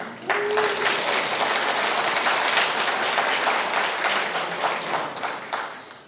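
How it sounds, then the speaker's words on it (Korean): An audience at an independence-activist award ceremony claps steadily for about six seconds, a dense, loud, sustained round of applause with no talking over it. "화답의 박수 부탁드리겠습니다"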